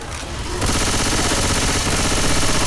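Loud, continuous automatic gunfire in a war video game as players shoot at a tank, a sustained rattling barrage that swells after a brief lead-in and runs without pause.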